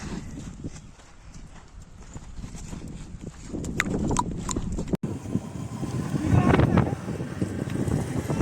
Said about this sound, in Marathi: आता खाली घेऊन घोडा शंभू चाललाय.